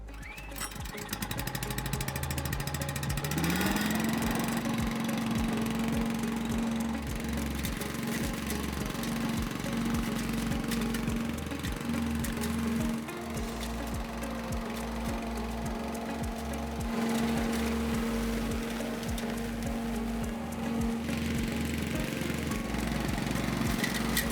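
Cobra WV580SPL petrol wheeled vacuum blower engine starts, rises in pitch and then runs steadily at a constant drone for over twenty seconds, close and moderately loud, with no talk.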